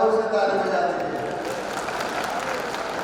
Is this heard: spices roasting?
no